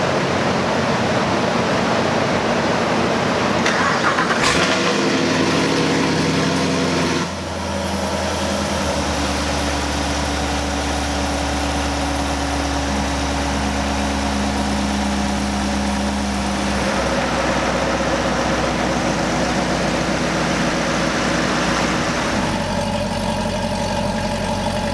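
A bolt-on 6th gen Chevrolet Camaro SS V8 fires with a loud burst, then settles into a deep, steady idle that rumbles on alone, close by, with a slight shift in tone near the end.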